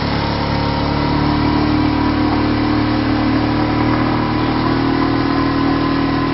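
A boat engine under test on a stand roars loudly and steadily, held at high revs throughout with a constant droning hum and no talk.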